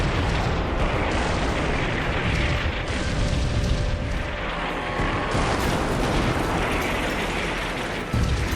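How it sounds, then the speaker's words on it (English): Naval artillery fire in the Combat Mission game, with ship guns shelling enemy positions as a dense, continuous barrage of heavy booms and rumbling blasts that overlap without pause. "Artillery observers direct ship fire at enemy positions."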